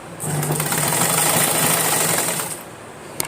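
A sewing machine stitches long frock pieces together, its steady whirring run lasting a couple of seconds close by, then stopping with a few sharp clicks.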